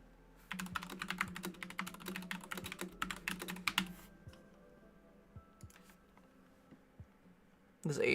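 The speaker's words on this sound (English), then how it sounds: "I am typing too fast" Rapid typing on a computer keyboard, a dense run of close, crisp key clicks for several seconds that thins into a few scattered taps before a burst of other noise at the end.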